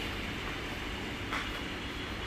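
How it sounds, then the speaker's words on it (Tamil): A metro train in Chennai rolls along with a steady, low, fairly quiet rumble and a brief hissing swell midway, with no voices. "இந்த மாதிரி மெட்ரோ ட்ரெயின்"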